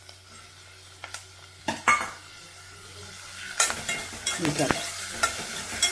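Chopped onions and tomato frying in a pan, a soft sizzle under repeated scraping and clinking of a spoon stirring, strokes growing busier toward the end, with brief speech.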